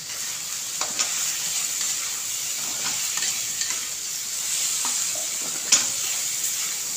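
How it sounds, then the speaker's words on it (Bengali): Onion, potato and tomato fry for egg khichdi with a steady moderate sizzle, punctuated by occasional spatula stirs and scrapes against the pan, close and with no talk. "পেঁয়াজ আলু টমেটো সব ভাজা হয়ে গেছে"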